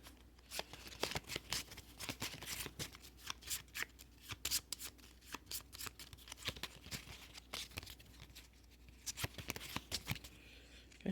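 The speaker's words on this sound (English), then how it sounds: "I'm going to shuffle." A small deck of game cards is shuffled repeatedly, producing close, crisp riffling and flicking bursts in an irregular rhythm with brief pauses, alone without talk.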